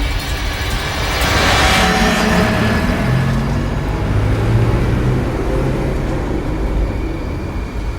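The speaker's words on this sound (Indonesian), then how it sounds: "Jihan pun segera melajukan mobil secepat mungkin." A car speeding off as a radio drama sound effect, its engine swelling to a loud, rushing roar that peaks early, then holds as a steady rumble of road noise without any voices.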